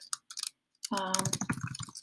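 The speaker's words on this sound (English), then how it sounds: "I can just start typing away." Someone types on a computer keyboard, producing a quick burst of soft clicks. A voice then starts talking over a few more faint taps.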